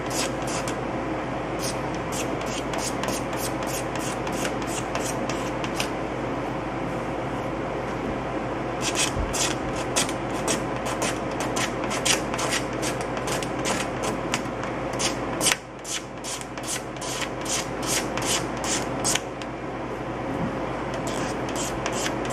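Sanding a paint run out of the paintwork on a 1974 Chevy Nova, a steady close rubbing rasp with rapid repeated strokes, one brief pause near the middle, and no talk.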